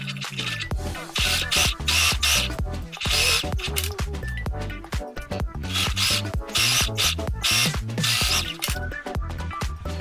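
A sewing machine stitches the 1 cm seam allowance along the mouth of a lined fabric drawstring pouch, running steadily for about ten seconds in repeated bursts of rapid mechanical needle clatter, close and fairly loud with no talk.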